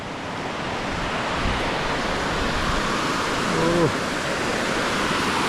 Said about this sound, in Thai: นี่ก็ เป็นฝาย ฝายหินก่อบ้านดงน้อยพี่น้อง